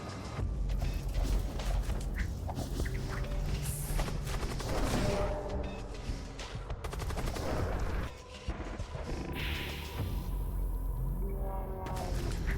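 Incendiary, thunder cannon and twin disruptor weapons fire together in the space combat game Void War, a dense, loud and continuous barrage of rapid shots and heavy blasts running the whole way through.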